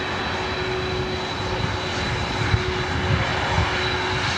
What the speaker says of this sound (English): Next arrival is Southwest Airlines flight 5121 coming in from Phoenix, Arizona on a 737 MAX 8